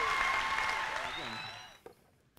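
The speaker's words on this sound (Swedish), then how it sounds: "En stor applåd till alla tre." Applause from a church meeting congregation, clapping that fades out steadily toward the end, with a faint voice beneath.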